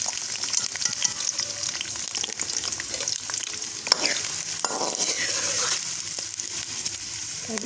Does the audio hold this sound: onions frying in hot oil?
yes